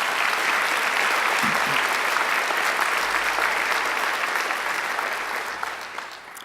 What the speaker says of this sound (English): I think she deserves another great round of applause for that